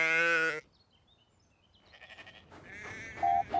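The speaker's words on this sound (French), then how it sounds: "j'ai déjà compté ces moutons 5 fois" A sheep bleats loudly and close in a French-dubbed Thomas and Friends animated episode, one long wavering cry, followed by quieter ambient music and a short whistle-like tone.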